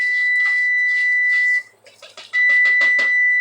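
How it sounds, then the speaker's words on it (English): A kitchen timer beeps while Mexican rice cooks, a loud, steady electronic tone holding for over a second, then a quick run of sharp repeated beeps after a short pause. "So we have our timer. We're going to go ahead and turn it off."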